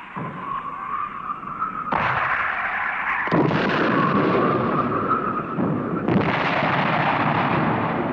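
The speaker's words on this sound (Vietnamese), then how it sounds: "Một loạt pháo bắn," A volley of artillery fire from a gun emplacement in a classic Soviet war drama film, heard as loud, heavy booms whose rumbles overlap, with fresh blasts landing in sequence and no voices.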